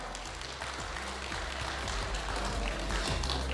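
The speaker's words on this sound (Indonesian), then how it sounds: "Tepuk tangan untuk kita semuanya." Audience applause at the 2025 national gathering of the Indonesian BMT association in Kulon Progo, a hall crowd clapping in a steady, dense patter that runs the whole stretch, fairly distant and even, with a low hum underneath.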